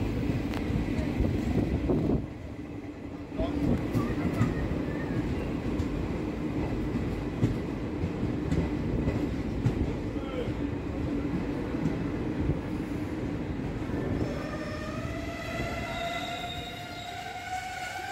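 The Hazarduari Express (13113, Kolkata–Lalgola) runs through Nasipur Road toward Jiaganj halt. A loud, steady rumble of wheels on track fills the whole stretch, and rising tonal squeals appear near the end.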